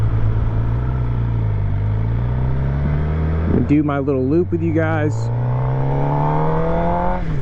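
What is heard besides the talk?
Suzuki GSX-R750 motorcycle engine with titanium muffler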